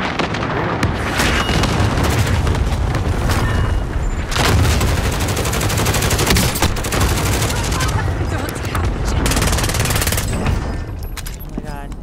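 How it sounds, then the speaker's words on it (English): An allied precision airstrike in Call of Duty Modern Warfare, with heavy booming explosions and rapid bursts of gunfire layered densely and loudly throughout, broken by sharper blasts and with voices shouting in the mix. "Allied precision airstrike incoming!"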